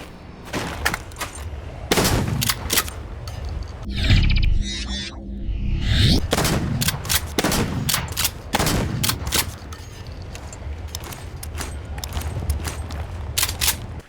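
A pistol with a bullet upgrade fires in Dishonored, giving sharp, loud, close shots in an irregular series with a spread-like blast, briefly interrupted by a whooshing mechanical effect before the firing resumes.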